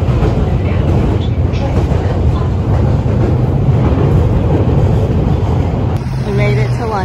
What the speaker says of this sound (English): The underground in London.